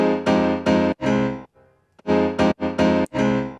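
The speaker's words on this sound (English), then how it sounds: "the piano is this contact library" A Noir piano sample library in a Kontakt setup plays punchy, in-your-face chords in short rhythmic stabs with a brief pause midway, loud and close with no other sounds.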